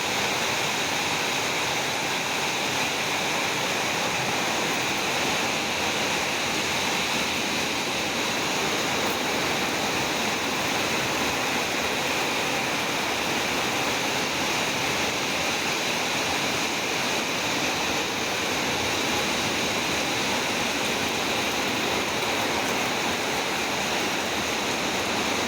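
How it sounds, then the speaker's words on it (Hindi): Heavy monsoon rain pours down in a dense, steady roaring hiss that stays constant and even throughout, with no voices. "चलिए, बारिश तो हो ही रही थी,"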